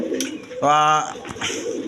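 Satin pigeons of various breeds at a seller's coop give one clear, close coo lasting about half a second, surrounded by softer background noise and a faint voice.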